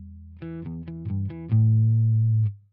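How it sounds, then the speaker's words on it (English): Electric guitar riff played dry without compression: several quick plucked distorted notes followed by a held chord that fades out, alone and close. "The riff without the compression."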